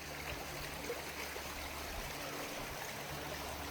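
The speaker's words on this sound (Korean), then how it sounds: "길가에 맑은 물이 흐르는 도랑이 모습인데요." Clear water runs along a roadside ditch near a temple gate on a trekking path, a soft continuous trickling and burbling that stays even and moderately quiet throughout.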